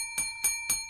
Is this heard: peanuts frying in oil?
no